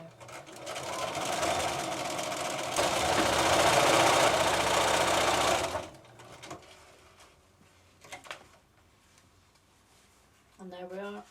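A sewing machine stitching the button band of a cushion runs in a fast, steady mechanical whir for several seconds, close and loud, then stops, leaving quiet handling sounds and a brief voice at the end.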